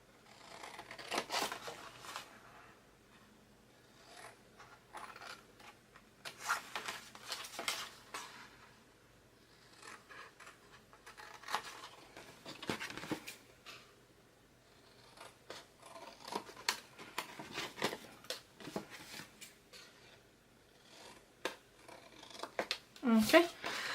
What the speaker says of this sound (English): just cut off all of the triangles